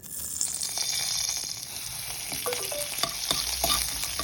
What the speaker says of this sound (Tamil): அதே கடாயில் தேங்காய் எண்ணெய் ஊற்றி கடுகு, பச்சை மிளகாய், கருவேப்பிலை தாளிச்சுங்கோ